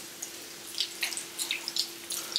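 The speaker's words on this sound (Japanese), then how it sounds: "シャワーの方はね、こんな感じ。" A hotel suite shower at the Aloft Langkawi Pantai Tengah runs in a tiled bathroom, a continuous hiss of spraying water with irregular splashes and drips, moderately quiet and without voices.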